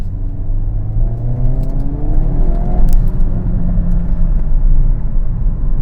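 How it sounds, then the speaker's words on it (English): A Hyundai Kona N with 280 horsepower revs and accelerates, a loud deep engine and exhaust rumble rising in pitch, with faint crackling pops from the exhaust scattered through it. "some more sounds, some pops from the exhaust"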